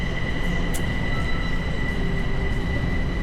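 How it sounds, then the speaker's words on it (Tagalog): A train at a station near Kaohsiung Airport in Taiwan gives a steady close rumble with a thin, sustained high whine, and a brief squeal cuts in early on. "nakababa na tayo ng tren."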